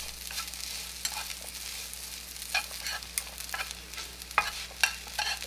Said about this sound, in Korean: 어묵을 볶다가